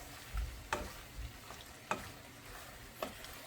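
Prawns fry in a pan while being stirred, with three distinct spatula scrapes spaced about a second apart over a soft, steady background sizzle, quiet and close.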